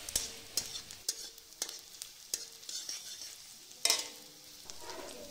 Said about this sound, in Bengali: তেল গরম হয়ে এলে কেটে রাখা আগে থেকে পেঁয়াজ কুচি আর লঙ্কা কুচি দিয়ে ভালো করে নাড়াচাড়া করতে হবে